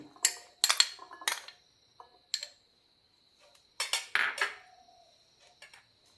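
Chickpeas tipped into a salad bowl, heard as several separate bursts of rattling clatter and clinks, close and sharp, with quiet gaps between the pours.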